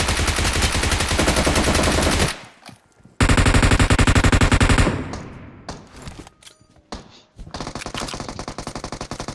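Rapid automatic gunfire in the mobile battle-royale game PUBG Mobile: a sustained loud burst, a short break, a second burst, then scattered shots and clatter before firing picks up again.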